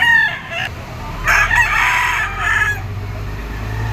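A yellow-legged bull stag rooster crows loudly and close by in one long, drawn-out call, with a low hum of other sounds beneath it.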